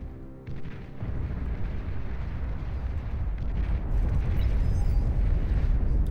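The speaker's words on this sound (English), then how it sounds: "Only hearing the nuclear detonation, not the nuclear launch." A nuclear detonation in the strategy game Beyond All Reason: a loud, deep, sustained rumbling roar that swells after a brief dip and keeps thundering with no speech over it.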